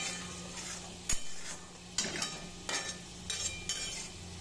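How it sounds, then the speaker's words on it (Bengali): Spice masala frying and being stirred in oil in a pan, giving a soft steady sizzle broken by several sharp scrapes and clinks of a spoon against the pan, with no voices. "আর এই মশলাটা এখন আমি কষিয়ে দেবো।"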